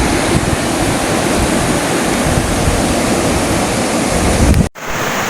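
The Labi River rushes past in a steady, loud wash of flowing water heard close by, continuous and even before a sudden brief dropout near the end.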